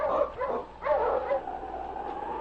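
Sled dogs barking and yipping in a vintage Yukon radio drama, a few quick barks and whimpers up close, then a steady murmur of background noise.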